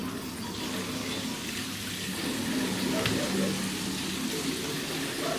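Water circulates through pipes of a private home's heating system near the boiler, a steady watery rushing and gurgling hum that swells slightly midway, close and continuous.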